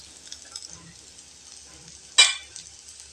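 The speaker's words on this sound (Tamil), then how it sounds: "பூண்டு போட்ட உடனே கிண்டி விட்டுணுங்க" Garlic hits hot oil in a pan, giving one sudden sharp sizzle burst that fades over about half a second, with faint stirring scrapes before it in an otherwise quiet kitchen.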